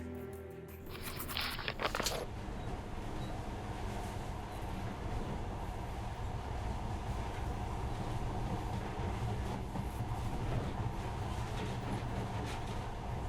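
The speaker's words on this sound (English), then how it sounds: "But now, this monorail seems magic, doesn't it?" A monorail train runs in Metro Last Light Redux, a continuous rumbling, rattling ride noise that settles into a steady drone after a brief clatter at the start.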